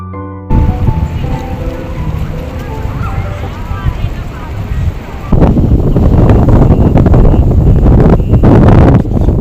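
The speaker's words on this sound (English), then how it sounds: "it is so windy and cold." Strong, cold wind buffets the microphone in loud, rough gusts on a Beijing street, growing stronger partway through, with a voice talking at the start.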